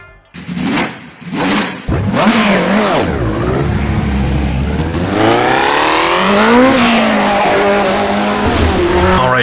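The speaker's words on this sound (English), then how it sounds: "Rolling out of the pit lane then in our fake Cooper T81, big V12 in the back, you can hear it." A big Maserati V12 in a 1960s Cooper T81 Formula 1 car in the racing game rFactor 2, blipped in short revs, then roaring loudly with rising and falling pitch through the gears, tyres squealing along.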